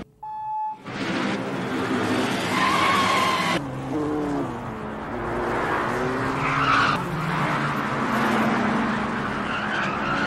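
Race cars skid and roar through a race scene in an action film, with loud, continuous engine noise and tire squeal lasting throughout.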